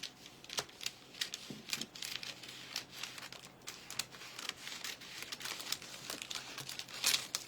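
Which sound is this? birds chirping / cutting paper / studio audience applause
cutting paper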